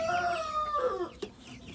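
Two Sussex roosters and a hen clucking close by, a few overlapping calls with a rooster-like drawn-out cry, steady farmyard sounds throughout.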